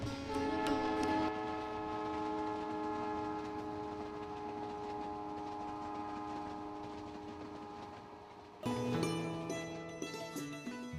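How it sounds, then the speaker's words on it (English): Palace on Wheels luxury train running through Rajasthan toward Bharatpur, a steady rolling rumble with sustained tonal hum that drops briefly then surges again louder near the end, no voices. "as the train takes you to Bharatpur"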